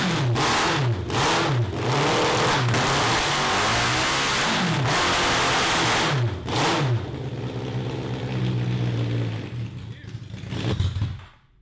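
A 750cc cross kart engine held at wide open throttle during carb tuning, loud and close, surging and bogging in repeated rising and falling waves before dropping off near the end.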